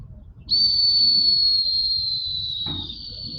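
Turbo whistle device fitted in a car exhaust, a single sustained high-pitched whistle starting suddenly and holding steady for about three seconds over low engine rumble.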